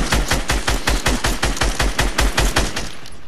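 Rapid automatic gunfire from a video game shooting down a built platform, a loud, evenly spaced stream of about a dozen shots a second that runs for the whole stretch.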